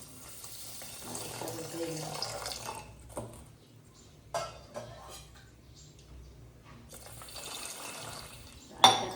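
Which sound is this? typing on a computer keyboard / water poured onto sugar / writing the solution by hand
water poured onto sugar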